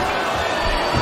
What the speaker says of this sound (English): This crowd is solidly behind their superstar